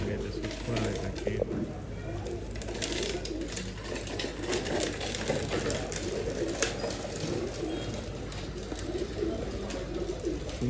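Pigeons cooing in a pigeon-for-sale setting in Bangalore, soft low coos repeating steadily beneath people talking nearby.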